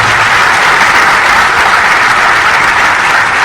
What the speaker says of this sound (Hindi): आप जोर से ताली बजाना